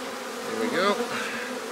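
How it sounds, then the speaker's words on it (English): Bees buzz around an open beehive during burr comb removal, a close whining drone that swells and bends in pitch as one flies past, then settles back into a steady hum. "I can still feel the bees, but the stingers aren't making it through."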